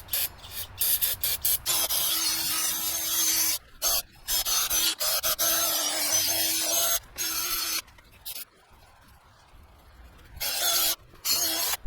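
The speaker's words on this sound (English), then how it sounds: "we're going to do that using a wire wheel," A spinning wire wheel scrubs rust and grime off the front brake hub of a 2020 Toyota Corolla 1.8L, a steady close rasping grind broken by short pauses as the tool lifts away.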